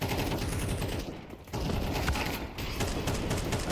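Rapid gunfire in a Counter-Strike match, dense and loud bursts of shots and clatter nearly continuous across the clip, with one brief lull in the middle.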